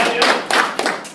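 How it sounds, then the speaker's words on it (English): Middle school students clap in a short burst during a school presentation, dense rapid claps that swell and restart in waves, close and fairly loud with no talk over them. "Clap it up again for that."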